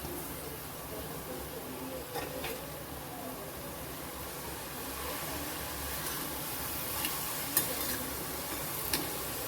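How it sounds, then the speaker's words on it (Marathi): Fenugreek greens sizzling in a pan as they are stirred, a constant hissing fry with occasional scrapes and clicks of the spoon, close and even throughout. "छान आपण मिक्स करून घेऊया भाजी"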